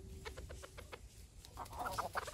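Rhode Island Red hens clucking nearby in a farmyard, a quick run of soft rhythmic clucks followed by a busier cluster of calls, fairly faint against low background noise.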